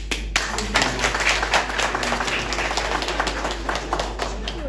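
A crowd claps in a conference room at a political gathering, with dense, close applause and sharp individual claps running continuously under a steady low hum.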